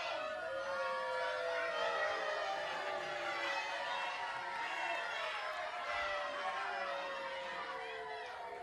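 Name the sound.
big crowd at a wrestling event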